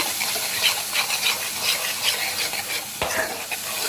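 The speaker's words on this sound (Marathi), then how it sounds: "आणि याच्यामध्ये आता आपण ही दोन टॅमॅटोची ग्रेव्ही त्यातून पेस्ट करून घेतलेली आहे ती घालूया" Tomato paste gravy poured into a hot oiled pan bursts into a loud, continuous sizzle with stirring, heard close and without speech.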